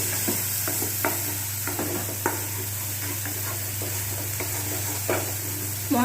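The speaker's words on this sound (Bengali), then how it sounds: "মশলাগুলো এবার কষানো হয়ে যাচ্ছে।" Spices and ginger sizzle and fry in a pan as soya curry is cooked, with a steady hiss broken by the scrape and clack of a spoon stirring every second or so.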